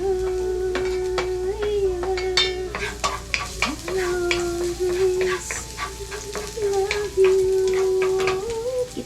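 Garlic, onion and ginger sizzle in a hot pan while a utensil scrapes and stirs in quick irregular strokes, with a soft steady hiss underneath and no talking.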